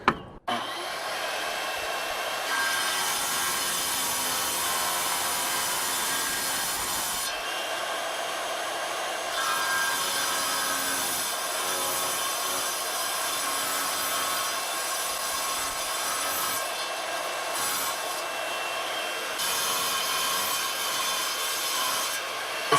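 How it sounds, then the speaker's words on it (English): A wet tile saw cuts through a tile, giving a continuous loud grinding whine that shifts in pitch as the blade bites, with brief dips between passes and no talk. "So let's see if we can get this out with the saw."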